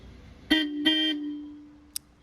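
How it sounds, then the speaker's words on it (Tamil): Two aftermarket horns on a 2025 Maruti Suzuki Ertiga honk close by, two short loud blasts in quick succession, followed by a faint brief click in an otherwise quiet setting. "ஃப்ரண்ட்டில் ரூட்ஸ் பிராண்ட்லேருந்து நமக்கு 2 ஹாரன்ஸ் இந்த வண்டிக்கு சேஞ்ச் பண்ணியிருக்கோம்"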